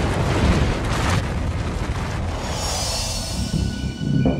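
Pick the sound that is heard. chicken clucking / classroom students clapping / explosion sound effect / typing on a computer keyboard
explosion sound effect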